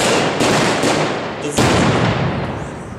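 Two heavy booming blasts of reenactment artillery cannon fire, about a second apart, each followed by a long rumbling roar; loud and close, at an outdoor historical commemoration.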